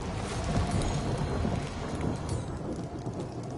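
A thunderstorm with steady heavy rain and low rolling thunder in the video game Marvel's Guardians of the Galaxy, a dense continuous wash that swells slightly early on, with no voices.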